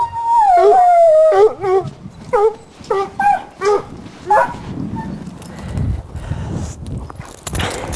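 Hunting dogs on a mountain lion hunt in Montana howl loudly up close, one long wavering howl followed by a series of shorter bays and yips, fading into rustling and background noise.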